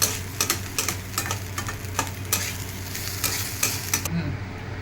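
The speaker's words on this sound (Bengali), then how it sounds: "আমার চাল লালচে করে ভেজে নেওয়া হয়ে গেছে।" Rice frying in a kadai and stirred with a spatula: a steady close sizzle with a low hum beneath and repeated scraping strokes, without talk.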